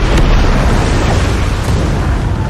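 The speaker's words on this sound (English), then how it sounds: "I did not expect an explosion of that side" A loud explosion in a fantasy TV series, a cask blowing up on a fishing boat, heard as a dense, sustained roaring rumble with heavy low-end that stays loud throughout.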